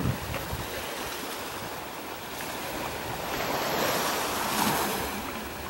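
Ocean waves break and wash onto a Sicilian beach in a steady surging roar, swelling midway, with gusts of wind buffeting the microphone.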